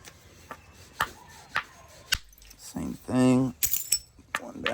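A copper bopper strikes stone to knock off chalky cortex, giving a few sharp, separate clicks and taps close by while someone talks between the blows.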